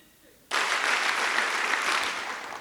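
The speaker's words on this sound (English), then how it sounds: "you are going to clap 9 times, and you're going to stop after the 9th one" At an event, an audience bursts into loud, sustained clapping after a brief quiet moment. The clapping continues as a dense wash rather than nine separate claps and fades slightly at the end.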